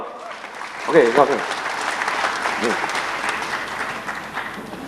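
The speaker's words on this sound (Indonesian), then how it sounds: "kasih tepuk tangan" An audience at an Indonesian sales seminar breaks into steady applause that carries on throughout, with someone talking briefly over the start of it.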